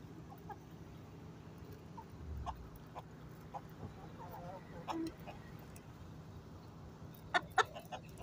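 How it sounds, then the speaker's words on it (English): Calm chickens cluck softly and intermittently nearby in the Florida Keys, with a few sharper calls toward the end over a quiet outdoor background. "those are really calm chickens."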